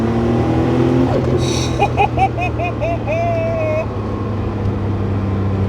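A 1990s Porsche 911 Turbo 3.6 pulls hard in first gear, its engine a loud, low, steady roar from inside the cabin, while a voice exclaims over it.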